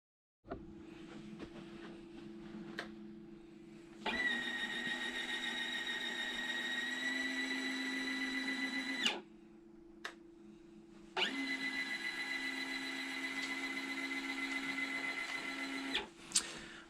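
Retractable landing gear on an 87-inch Seagull Models F4U Corsair, a small electric servo whine that runs in two long cycles of several seconds each, separated by a brief pause, with a low steady hum underneath, close and quiet.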